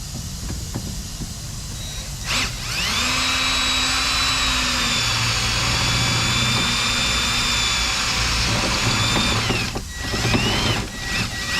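A power drill fitted with a small lubricated bit drills at a steady, loud whine for about seven seconds, then stops, with brief clicks and handling noises around it.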